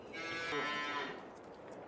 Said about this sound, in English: So we've got six young heifers in at the moment.